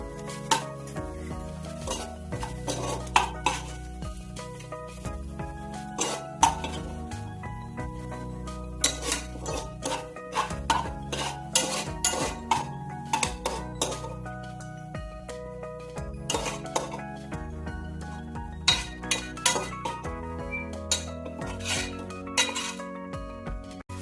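Chicken biryani is scooped out of a pressure cooker, with repeated metallic clinks and scrapes of a spoon against the pot in an uneven rhythm, close and fairly loud, no speech.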